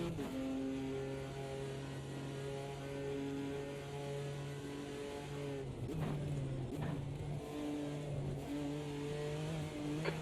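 A McLaren GT4 race car engine drones through a lap of the Nurburgring in the racing game Automobilista 2, a steady sustained tone with a few quick shifts and dips partway through, loud and alone without talk.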